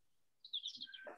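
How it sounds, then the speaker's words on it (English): Birds chirping outdoors, a quick run of faint, high tweets and short trills, distant and soft against a quiet background. "I love the sound of the birds."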